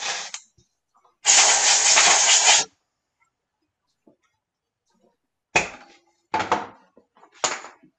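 Compressed air blasts dust off a sanded wood turning in a woodworking shop: a short hiss, then a longer loud steady blast, followed after a pause by three quick sharp puffs.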